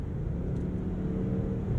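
A 2022 Range Rover with a 523-horsepower engine pulls under acceleration, heard from inside as a smooth, steady low rumble that rises slightly in intensity over a couple of seconds.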